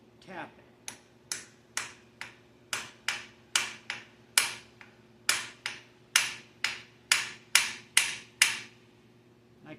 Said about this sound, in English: And then get my hammer.